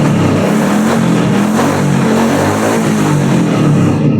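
A 2022 Royal Enfield Bullet 350 motorcycle engine running close and loud, a steady throbbing drone that holds without pause and has no voices over it.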